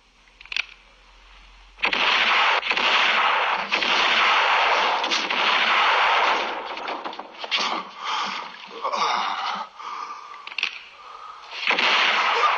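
Gunfire in a film scene: a single sharp shot followed by sustained, dense bursts of loud firing and blasts that continue with brief gaps throughout.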